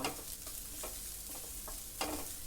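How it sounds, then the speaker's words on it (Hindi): Chopped onions fry in hot oil for chicken spring roll filling, a steady close sizzle with scraping stirs of a spoon through the pan, one sharper scrape near the end; no talking. "अनियन को फ्राई करते टाइम चलाते रहें ताकि ये जल ना जाए।"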